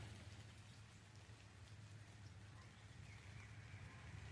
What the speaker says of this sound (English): Sounds like it's raining again.